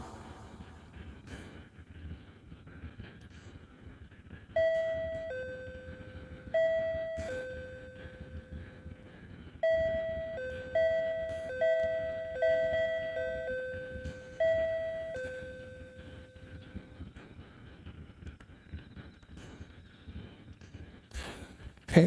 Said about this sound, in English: It's ringing on my doorbell.